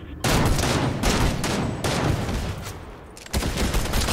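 Gunfire rattles through a shooter video game in loud rapid bursts, with dense automatic fire breaking off briefly near the end before resuming.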